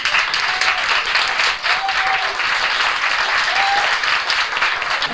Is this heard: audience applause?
yes